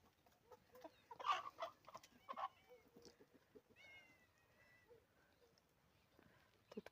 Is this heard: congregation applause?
no